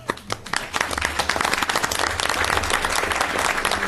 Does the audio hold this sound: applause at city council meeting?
yes